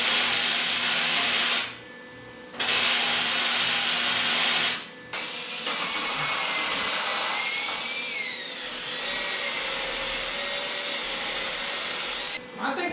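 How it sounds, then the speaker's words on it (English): Welding on the loader of a seized John Deere 2010 tractor. Two loud, steady crackling bursts with a brief pause between them are followed by a long, sustained, whining hiss that holds for several seconds. "Because I'd rather weld quickly and keep it hot than risk low penetration."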